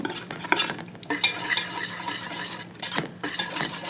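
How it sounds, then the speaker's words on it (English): A butter and flour roux is stirred in a pot, with close scraping and clinking strokes of a utensil against the metal in an irregular rhythm over a faint sizzle. "We're just going to stir until everything is melted and blended."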